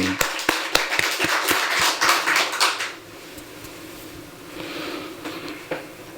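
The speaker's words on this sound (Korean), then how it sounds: "박수로 감사합니다." A church congregation clapping during a Pentecost Sunday service, a burst of sharp irregular claps lasting about three seconds, then quieter room sound with a few scattered taps.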